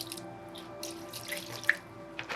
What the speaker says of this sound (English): we're just gonna get some distilled water and give it a quick little rinse